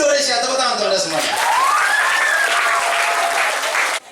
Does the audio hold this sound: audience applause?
yes